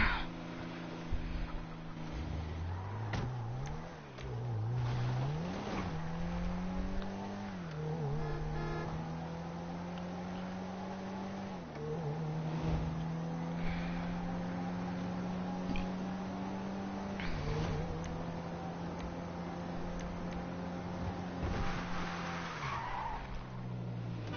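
Car engine in GTA 5 driving and revving through gear shifts, with rising and falling pitch sweeps and tire skids, loud and continuous throughout without talk.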